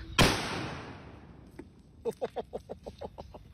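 A ping pong bomb firecracker thrown by a child goes off in one sharp, loud blast, followed after a pause by a quick series of short rhythmic popping or clucking-like sounds.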